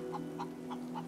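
Chickens in the video game Divinity cluck quietly in four short, evenly spaced calls over a low, steady hum.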